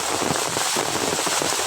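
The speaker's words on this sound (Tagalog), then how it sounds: "Super lakas ng ulan po." Heavy rain falling in a mangrove area in Eastern Samar, heard as a dense, loud, steady patter and hiss of drops close by, without talk.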